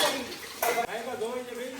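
Pots and dishes clatter and clink at close range while being washed, with a brief louder knock partway through and voices talking in the background.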